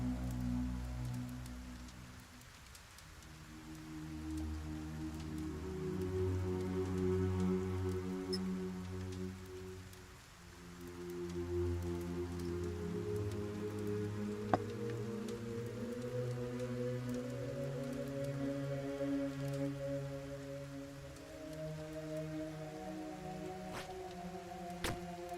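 Steady rain falls and patters on surfaces outdoors, a continuous soft hiss with scattered drop ticks beneath layered low tonal sounds that rise and shift, moderately quiet and without speech.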